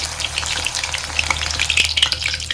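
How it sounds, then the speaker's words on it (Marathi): Green chillies sizzle and crackle in hot oil, a steady close frying hiss with bright pops and spits throughout, no voices. "आता तळून घेतलेली मिरची."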